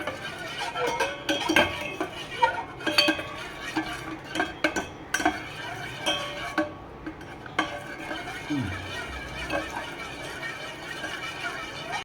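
Rice payasam is stirred in a pot over a low flame, a spoon scraping and clinking against the metal in continuous irregular strokes, close and moderately loud, with faint kitchen background.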